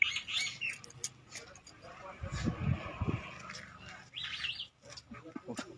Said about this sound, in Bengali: আমি ওই জোড়া শালিক দেখছি।